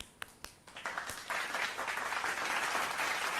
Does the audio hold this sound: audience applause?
yes